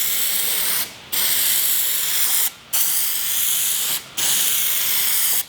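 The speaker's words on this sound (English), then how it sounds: "all you have to do is spray it wet" PlastiDip rubber coating sprayed wet from an aerosol can onto a panel in three long hissing bursts, each a few seconds, separated by brief pauses, close and loud.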